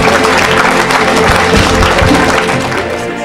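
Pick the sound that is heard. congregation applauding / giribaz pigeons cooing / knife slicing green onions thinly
congregation applauding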